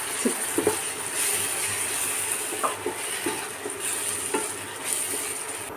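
Tomatoes sautéing in oil in a pan for tomato rice: a continuous soft, hissing sizzle with a few light taps from stirring, fairly close and steady, with no speech.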